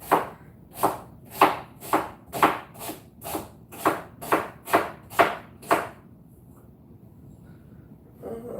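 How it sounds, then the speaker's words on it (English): Onions sliced with a knife on a cutting board, about a dozen sharp, evenly spaced chops close up, then a pause with a faint knock near the end. "So we're gonna cut some onions up."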